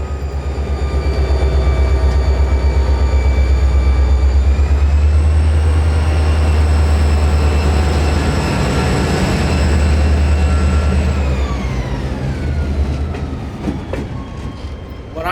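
A freight train shoves its cars slowly into a rail yard, with a loud, steady low diesel rumble, a drawn-out rising tone that shifts midway, and faint wheel noise, close by and continuous.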